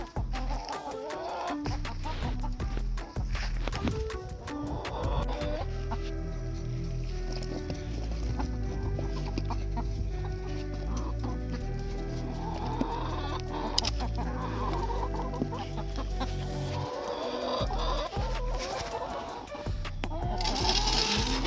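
Young chickens cluck and chirp close by in a coop, the birds fussing continuously over a busy rustling background, with brief talk to them now and then.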